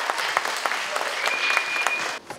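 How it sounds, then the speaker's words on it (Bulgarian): Audience clapping steadily at an award ceremony for a children's art olympiad, a dense patter of many hands at moderate loudness, then cutting off near the end. "Аплодисменти."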